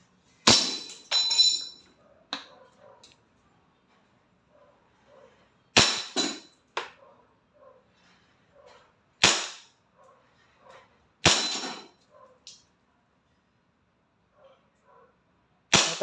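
A WE Glock 35 Force Series airsoft pistol with a silver slide fires single semi-automatic shots, five sharp loud cracks spaced a few seconds apart, with faint clicks and handling between them.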